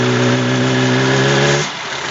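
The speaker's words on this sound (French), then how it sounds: "Donc on constate que quand on accélère le moteur, il a beaucoup de mal à prendre des tours." A car engine with a fault causing lack of power and starting trouble is revved hard, holding a strained, steady drone that struggles to climb in pitch before cutting off abruptly to a quieter rumble.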